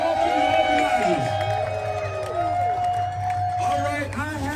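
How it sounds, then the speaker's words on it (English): A large crowd at a NO KINGS rally in Mineola, New York applauds and cheers, a dense steady roar of clapping with shouting voices and whoops throughout. "give yourselves a round of applause and all the organizers"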